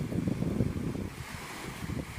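Strong wind blows hard against the microphone at an island shore while sea waves churn and slap, gusting in uneven surges throughout with no talk.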